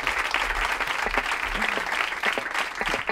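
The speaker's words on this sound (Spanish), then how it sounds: "Un aplauso para aquí." A studio audience on a Spanish comedy show applauds, steady dense clapping filling the whole stretch, with some low rumbling underneath.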